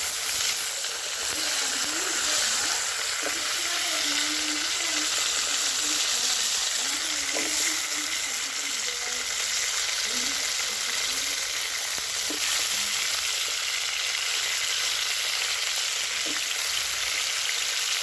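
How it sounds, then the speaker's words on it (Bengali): Potatoes frying in oil over a clay stove, a continuous close hiss and sizzle lasting throughout, with faint low murmurs and occasional small clinks beneath, no clear speech. "এবার আমি ওই তেলের মধ্যেই আলুগুলো দিয়ে দেবো"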